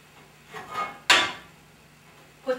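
Pretzel sandwiches land on a hot, smoking grill pan and the lid goes on, giving one sharp clattering contact followed by a bright sizzling hiss that fades over about a second, with softer handling noises before and after.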